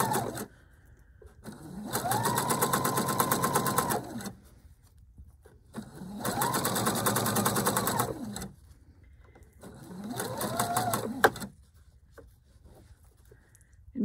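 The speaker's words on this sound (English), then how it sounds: "I'm going to sew all the way down to the end." Viking sewing machine stitching a seam runs in three bursts of a few seconds each, a close, even whirring hum with a rapid needle rhythm, separated by short quiet pauses.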